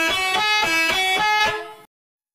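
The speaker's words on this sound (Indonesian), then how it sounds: "karena klakson tersebut menghasilkan kata telolet, maka terciptalah nama telolet" A telolet bus horn sounds a bright, multi-tone musical honk pulsing in a quick rhythmic pattern, loud and close, then stops abruptly into silence.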